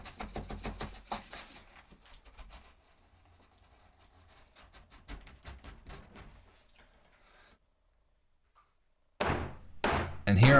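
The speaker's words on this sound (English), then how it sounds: "And here I'm cutting a mortise with the chisel." A hand-forged chisel, made from an old leaf spring, chops a mortise in a timber-framing beam, giving a run of sharp, close knocks and thuds in quick bursts, then a pause and a few louder final blows.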